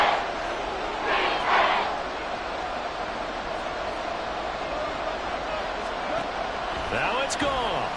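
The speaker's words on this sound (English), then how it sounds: "this crowd making it hard to hear" Madden 24 football stadium crowd gives off a steady, loud roar that fills the whole stretch, with a broadcast announcer talking over it and a few sharp impact sounds near the end.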